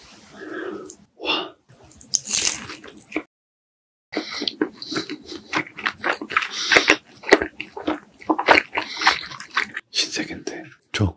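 Someone eats homemade hwajeon, flower-decorated fried rice cakes, close to the mic, with soft sticky bites and chewing that come in bursts. A short silence falls partway through, and a voice talks between mouthfuls.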